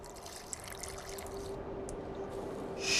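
Water in The Witcher 2 video game pours in a steady trickle, soft and close, for quenching, with a thin tonal hum beneath it and a brighter splash near the end.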